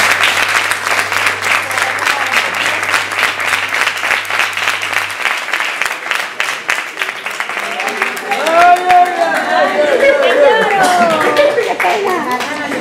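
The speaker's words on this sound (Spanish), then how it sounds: "Un aplauso para ellos, por favor." An audience applauds a couple at a 50th wedding anniversary celebration, with steady, dense clapping that holds loud, then thins as voices rise over it in the final seconds.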